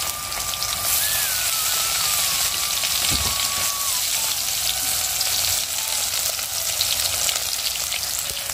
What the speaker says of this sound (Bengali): তো ভাবলাম যে কয়েকটা আছে ভেজেই নেই।